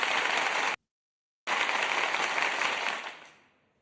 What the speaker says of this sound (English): let's give a round of applause for everybody that played.